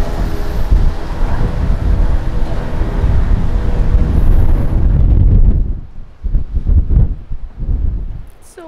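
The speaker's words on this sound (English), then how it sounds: "So windy." Strong wind buffets an outdoor microphone in Carcassonne, France, a loud continuous low roar that drops away after about six seconds into gusty, intermittent rumbles.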